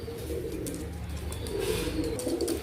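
Fancy-breed pigeons, including Oman teddy, Pakistani golden and Khulna red-necked, offered for sale as pairs, coo softly and repeatedly at close range over a steady low background murmur.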